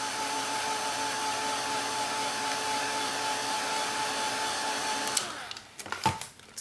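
A hair dryer blows steadily and close to dry fresh acrylic paint on a pineapple smoothie painting, its continuous whir running unbroken for about five seconds before it is switched off and a few handling knocks follow.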